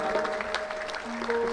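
An audience gathered for a Punjabi music event claps loudly, a dense burst of handclaps filling the short moment with a few faint voices mixed in.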